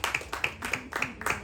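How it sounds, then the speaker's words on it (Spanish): Scattered clapping for a newcomer named Yabó at a gathering, several quick bursts of hand claps rising and falling over a second and a half, moderately close, with faint voices mixed in. "Un aplauso para Yabó, miren qué bonito."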